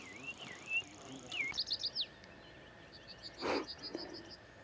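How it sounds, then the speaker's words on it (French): A nightingale sings in a foggy Pyrenean valley near the pass on the route to Roncevaux. Short whistled and warbled phrases and quick repeated chirp series sound at moderate distance over a low, steady background hum. "le rossignol chante"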